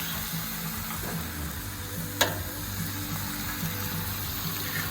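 Ham and eggs frying in a pan for a chivito sandwich, giving a steady, close sizzle throughout with one brief sharp clack partway through.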